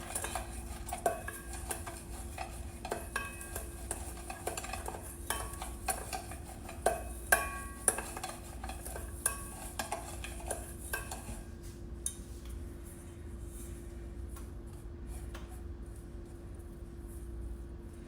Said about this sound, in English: let me just give them a stir with a spoon